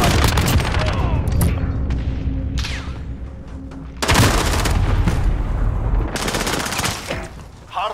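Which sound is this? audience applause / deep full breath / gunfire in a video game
gunfire in a video game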